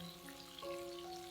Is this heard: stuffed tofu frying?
yes